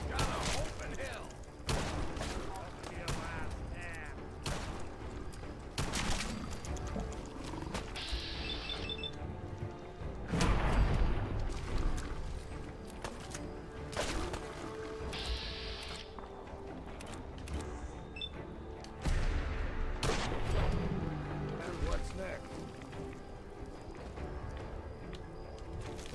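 Fallout 4 video game combat with an explosive minigun, loud bursts and sharp blasts recurring irregularly, several heavier explosive thumps standing out amid clatter and background game noise.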